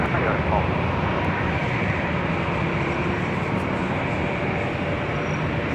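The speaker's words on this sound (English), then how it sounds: "767-400ER coming in from JFK" Delta Boeing 767-400ER, a 21-year-old airliner on flight 482 from JFK, arriving at LAX: a steady, loud broadband roar of jet engines that holds evenly throughout.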